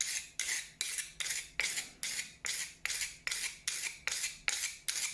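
A kitchen knife edge is being deliberately blunted ahead of testing a Work Sharp rolling sharpener, giving about a dozen evenly spaced, close, loud rasping scrapes in a steady rhythm with no talking.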